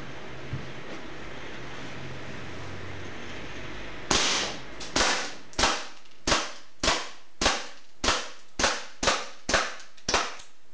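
A KJW P226 gas airsoft pistol fires a rapid string of about eleven sharp cracks at a cardboard target, evenly spaced and close, after several seconds of low background hiss and rumble.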